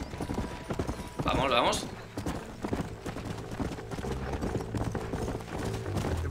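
Horse hooves clip-clop in the Western video game Red Dead Redemption, a steady trotting patter running under a man's speech for most of the stretch, with a brief whinny-like burst near the start.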